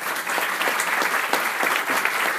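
Warm applause from a lecture audience greeting an architecture speaker, a steady wash of many hands clapping at fairly close range, continuous throughout.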